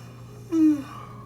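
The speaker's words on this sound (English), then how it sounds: "I'm still yawning, y'all, in the videos." A single drawn-out yawn from a woman recovering after giving birth, a soft breathy swell with a brief voiced moan lasting about a quarter second, close and fairly quiet over a steady low hum.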